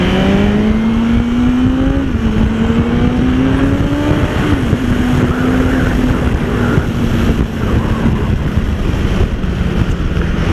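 A BMW S1000RR superbike accelerates hard down a race-track straight at a track day, its engine note climbing in steps through the gears, loud and continuous under heavy wind rush.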